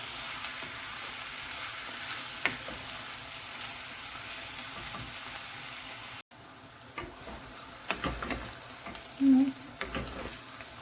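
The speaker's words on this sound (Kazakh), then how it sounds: "Пиязымыз әбден қуырылды." Chopped onions fry in a pan, a steady close sizzle with scattered stirring scrapes and a short gap partway through.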